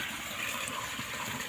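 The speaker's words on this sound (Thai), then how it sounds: "พาไปดูน้ำตกของสวนไผ่มีสุขกันค่ะเราใช้แผงมือ2นะคะ1แผง แล้วก็ใช้ปั๊มน้ำแบบแช่นะคะ" Small garden waterfall at a bamboo farm, fed by a solar-powered submersible pump on a 1.5-inch pipe, gives a steady, close rush of falling, splashing water with no voices.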